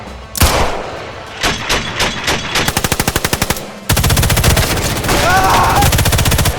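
Loud close gunfire in the video game Sniper Elite 5: a few single shots, then rapid bursts of automatic fire and a sustained rattling volley, with faint voices underneath.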